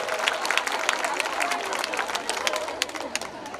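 Parents clap at a school event with a principal and teachers present, a steady patter of many hands mixed with crowd chatter, moderately loud and continuous throughout.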